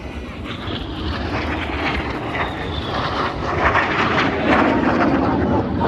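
A pair of RAF Red Arrows jets performs a manoeuvre at the Cosford air show, a loud continuous roar that swells gradually as the aircraft pass.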